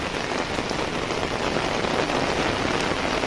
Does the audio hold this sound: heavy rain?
yes